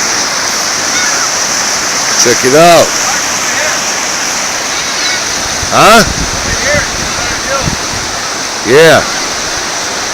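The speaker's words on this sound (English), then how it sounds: "Look at that water moving there." A wild river rushes at Caesar's Pool with a loud, steady roar close by, while people briefly talk and exclaim over it.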